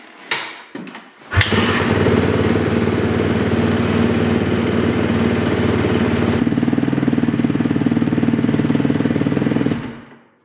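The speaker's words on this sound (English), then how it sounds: "Suzuki recommends you start this engine and let it idle for about 3 minutes." A Suzuki RM-Z250 motocross bike's single-cylinder engine is started and then idles steadily and loudly close by for several seconds before cutting off, with no talking.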